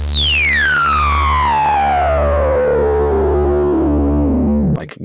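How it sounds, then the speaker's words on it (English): An IK Multimedia Uno Synth Pro analog synth with an SSI-based filter self-oscillates with resonance maxed. A bright whistling tone sweeps steadily downward over a droning, gritty bass, then cuts off at the end. "But the second one is an SSI-based filter, which does self-oscillate."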